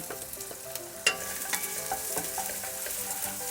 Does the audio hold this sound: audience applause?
no